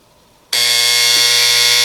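A restored Philco 53-702 clock radio alarm suddenly goes off after a quiet moment, a loud, steady, harsh electric buzz that continues unbroken.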